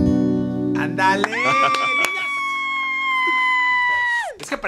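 In a concert audience at a cover performance, a woman and girls let out a long, high, sustained scream that rises and holds for several seconds before cutting off, loud and close over faint crowd noise.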